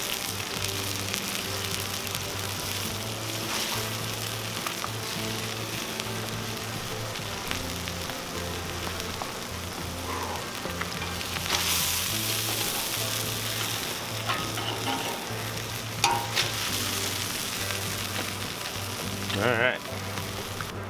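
Burgers sizzle and fry on a Cuisinart 360 griddle in a continuous crackling hiss, with occasional scraping and stirring sounds over it.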